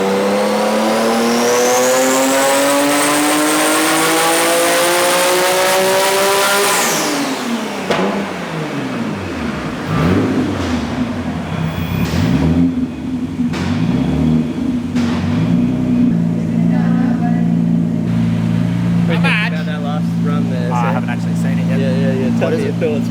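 An 800 hp Le Mans Edition Nissan R33 GT-R engine revs hard and loud under boost, climbing steeply through the gears for several seconds, then drops and settles into repeated rising and falling revs with voices talking over it.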